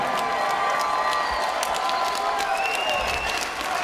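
A crowd at an MMA cage fight event cheers and applauds loudly, sustained clapping and shouts filling the venue, with an announcer's voice faintly under the noise.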